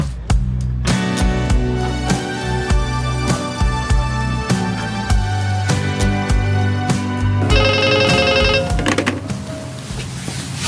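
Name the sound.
telephone ringing in the living room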